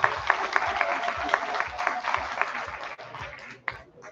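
Applause at a high school freshman ball in a Romanian lyceum: a lively crowd claps steadily and densely, with a few sharper claps near the end and light crowd murmur underneath.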